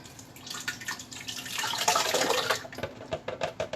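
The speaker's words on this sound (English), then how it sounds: "for 18 pods I put 4 cups of water, and it's going in" Four cups of water pour over eighteen tamarind pods in a container for tamarind drink, giving a continuous splashing gush that swells in the middle and breaks into gurgling, uneven splashes toward the end.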